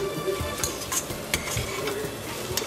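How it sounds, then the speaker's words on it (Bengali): Coarse soya chunk paste frying in a pan, a close, continuous sizzle broken by repeated scraping stirs of a spatula. "ভালো করে ভাজবো।"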